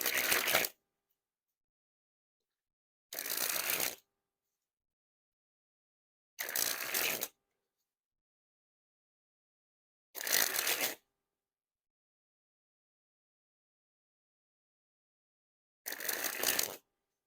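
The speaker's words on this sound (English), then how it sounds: "And first we'll spring the cards here." White Makers special reserve playing cards sprung from hand to hand in five separate bursts, each a crisp, rapid fluttering riffle lasting under a second, with silent pauses between.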